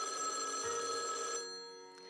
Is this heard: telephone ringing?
yes